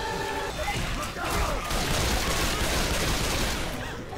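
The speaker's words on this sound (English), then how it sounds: "a lot of shooting and stuff" Dense, continuous gunfire from the video game Left 4 Dead 2 crackles loudly and steadily for several seconds, a chaotic burst of shots with possible talk mixed into the din.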